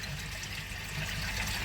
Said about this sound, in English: I'm going to empty that said fish tank into there